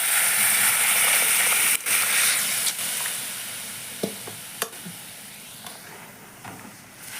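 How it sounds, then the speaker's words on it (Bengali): Cooked masoor dal poured into a hot pan for a Bengali dal with hilsa fish head, a loud, steady sizzle and hiss with sharp clinks of utensils, fading gradually toward the end. "এখন আমি দেখো ডালটাকে ঢেলে নিচ্ছি"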